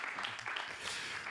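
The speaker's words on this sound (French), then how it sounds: "Applaudissements facultatifs." Audience applause at a talk on the emancipatory power of imagination, a brief burst of dense, even clapping that fills the whole moment at moderate loudness.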